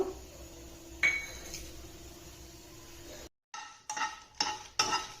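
Red chillies dry roasting in a pan, with a faint steady sizzle and a few sharp clinks and scrapes of a spoon stirring against the metal, then a brief pause and more scraping strokes.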